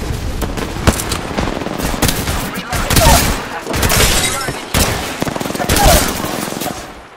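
Rapid automatic gunfire bursts from the battle-royale shooter Apex Legends ring out repeatedly, loud and dense, mixed with game effects while players talk over the action.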